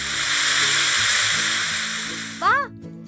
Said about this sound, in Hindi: रसोई घर में कुकर की सीटी भी बज गई।